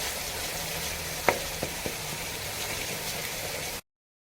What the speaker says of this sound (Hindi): अब हम इसे फ्राई कर लेंगे।